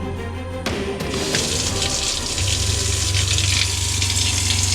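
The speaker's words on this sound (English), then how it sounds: "We have running water." Water gushes from a tap in a DIY camper van, fed by an onboard water pump, starting after a click, then running steadily under a low, constant pump hum.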